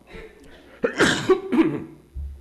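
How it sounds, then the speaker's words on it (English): A single throaty cough from a nearby person, a short harsh burst with a softer follow-up, against a quiet room. "may need to do that cough several times"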